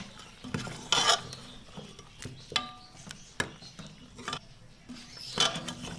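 Paya (trotters) being mixed with baking powder in a pot, a spoon scraping and clinking against the metal in irregular strokes, with sharp knocks and soft rubbing sounds close by.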